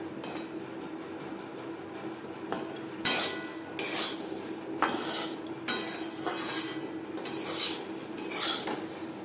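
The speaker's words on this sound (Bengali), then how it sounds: "খুন্তি দিয়ে আমি নাড়াচাড়া করছি মেশাবার সুবিধার জন্য।" A spatula stirs flattened rice (chire) in a pan with the gas flame off, making repeated scraping and clinking strokes in an irregular rhythm, close and fairly loud, with no voices.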